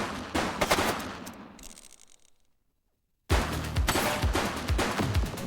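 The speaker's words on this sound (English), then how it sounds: "He's shooting!" Rapid bursts of gunfire in the police video game The Precinct, loud and dense, fading to near silence midway before a fresh barrage of close shots resumes.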